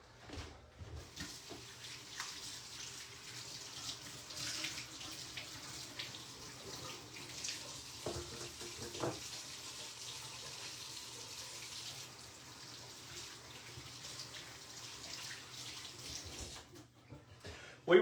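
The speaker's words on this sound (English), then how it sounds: "Let me wash off these hands." Tap water runs steadily into a sink as hands are washed under it after handling raw chicken, a continuous broadband splash lasting the whole stretch with small shifts as the hands move through the stream.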